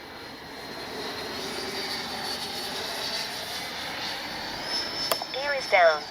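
A Freewing T-45 90mm RC jet flying, its steady ducted-fan whine holding level and loud, with a voice talking over it near the end.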